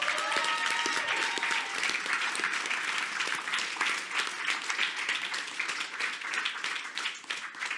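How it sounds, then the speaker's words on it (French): A live audience claps for an entrepreneur community presentation, a dense sustained round of applause at moderate distance that holds steady for several seconds, then thins slightly toward the end. "Vous pouvez l'applaudir. Bravo."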